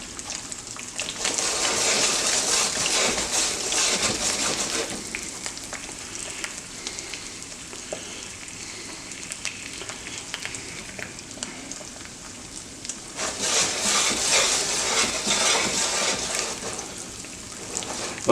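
Eggs frying in a pan give a continuous, fairly loud sizzle that swells and eases slightly over time, with no voices.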